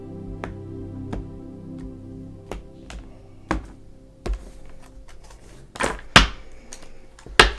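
Tarot cards handled and pulled from the deck, a series of sharp close taps and soft thuds at irregular intervals, growing busier and louder toward the end, with no talk.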